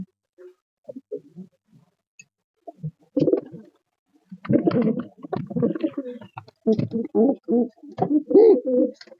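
Pigeons, including Giribaz and Madras breeds, being released to fly: soft, low cooing calls and a few faint flutters, building into repeated bursts of cooing in the second half, fairly close with no talk.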